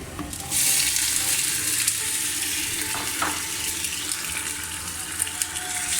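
A steady, loud sizzle of beef frying with onions in a hot pan, with occasional stirring scrapes and no talking.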